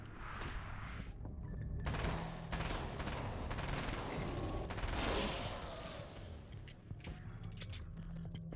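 SMG gunfire in Alan Wake's American Nightmare, rapid bursts of shots layered over a dense, rumbling game soundscape, fairly quiet in level with short pauses between volleys.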